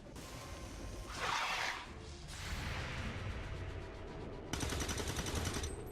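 Bursts of rapid gunfire from tracer rounds in the video game XCOM 2: a loud rattling volley near the start of the second, a longer sustained stretch, then a sharp dense burst toward the end, with no talk.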